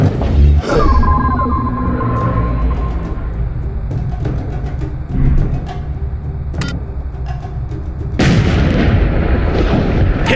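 Artillery fire support strike in The Bureau: XCOM Declassified, loud booming blasts and scattered gunfire layered through the scene, with a heavy burst near the start and another wide detonation toward the end, no voices.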